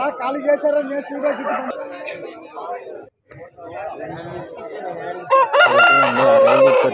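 Roosters crow loudly and repeatedly at a busy fighting-rooster market in Vijayawada, the calls ringing out over continuous crowd chatter and nearby voices.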